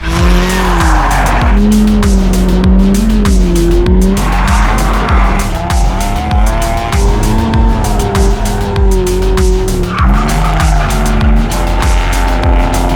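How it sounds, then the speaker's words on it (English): A Mazda Miata drifting on a paved drift track, tires squealing loudly and continuously over a revving engine whose pitch rises and falls as the car slides. "I need to burn the tires off. What better way to do it than the drift track?"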